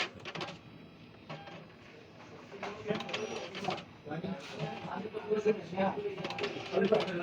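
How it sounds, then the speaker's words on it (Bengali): A Zebra ZC300 ID card printer feeds and prints a card. Irregular mechanical clicks and whirs rise and fall, mixed with a person talking. "একটা আমি প্রিন্ট দিচ্ছি।"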